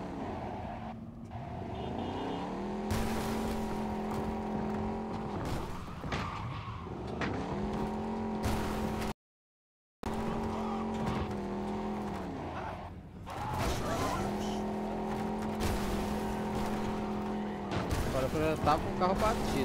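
Cars grinding and scraping in a deliberate ramming attack in Cyberpunk 2077, engines droning loudly with tire squeal and impact scrapes, continuous over about twenty seconds apart from a brief cut, with talk in places.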